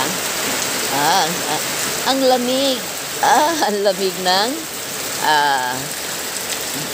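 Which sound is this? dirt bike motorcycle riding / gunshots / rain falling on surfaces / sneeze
rain falling on surfaces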